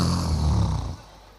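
A voice imitates a husband snoring: one loud, rough, throaty snore lasting about a second before trailing off.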